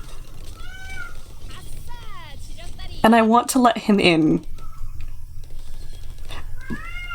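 A cat outside a door meows in a run of short, plaintive cries at the start and again near the end, while a person speaks over the middle stretch.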